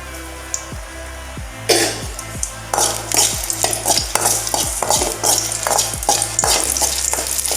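Dried red chillies with stems still on, dropped into hot oil in a pan for a Tamil thuthuvalai chutney, sizzling loudly and close, with a spatula clinking as they are stirred and turned.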